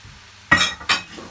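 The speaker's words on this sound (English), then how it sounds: "And have a stir." King prawn fried rice stirred in a pan, three quick loud scraping clinks of a utensil against the metal over a faint sizzle, close up and without speech.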